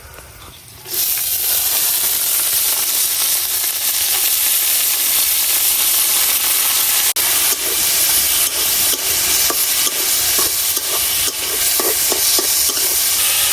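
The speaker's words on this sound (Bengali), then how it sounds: "এখন মসুর ডাল দিয়ে দেয়" Red lentils hit a pan of frying onion and garlic, setting off a sudden loud, steady sizzle and hiss that persists with faint stirring scrapes throughout, with no talking.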